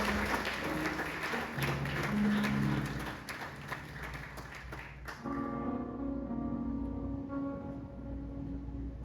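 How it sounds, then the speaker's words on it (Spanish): A church congregation claps in a rough, wash-like burst of applause for several seconds, then it cuts to sustained musical tones that carry on alone at moderate volume. "Dale un fuerte aplauso."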